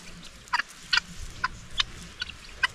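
Chickens clucking in a garden, a series of about six short sharp clucks spaced irregularly, moderately close, over quiet low background noise.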